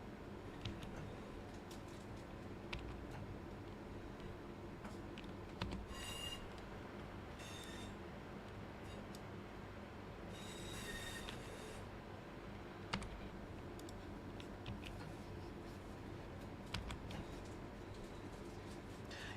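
A Class 323 electric multiple unit runs on the Cross City Line in Train Sim World 4, climbing an uphill gradient with a steady rolling hum and brief squealing flange or brake noises over a constant background, with no talking.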